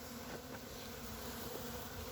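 A steady, close swarm hum from honey bees crowding around bucket feeders with drilled troughs, a continuous even buzz with no talking.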